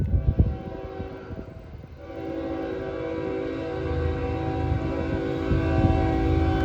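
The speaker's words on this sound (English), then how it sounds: "Like a nice size train tonight too." A Norfolk Southern freight train rumbles past at night in Gaffney, South Carolina, its multi-tone horn sounding loud and sustained over the heavy rolling clatter of wagons, with some knocking sounds at the start.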